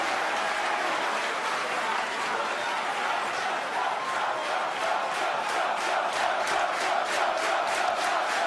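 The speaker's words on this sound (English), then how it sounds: "All these people cheering also." Crowd cheering and applauding during a rocket booster landing, a steady loud wash of clapping and whoops that swells into rhythmic chanting toward the end, with talk underneath.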